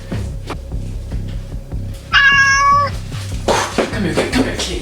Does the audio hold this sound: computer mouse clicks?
no